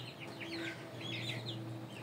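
Indio Gigante chicks clucking in short repeated chirps and clucks, several overlapping calls at close range, moderately quiet with no voices.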